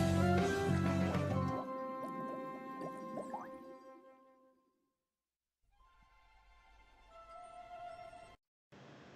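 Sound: Nickelodeon Movies Bubbles logo bubble sound effects

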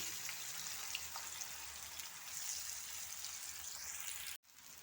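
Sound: green plantain pieces frying in hot oil in a pan

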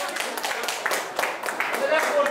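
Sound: wedding guests applauding

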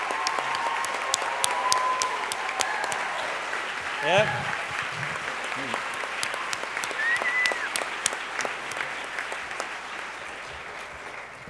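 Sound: audience applause for Seth Tibbett

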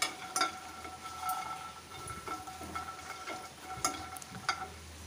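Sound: kheer (rice pudding) cooking and being stirred in a pan

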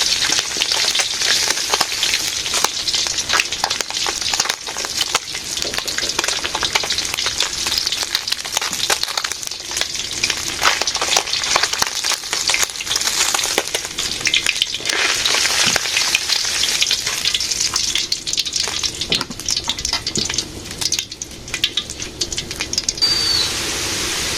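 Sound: potatoes frying in a pan

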